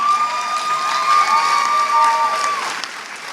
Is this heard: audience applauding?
yes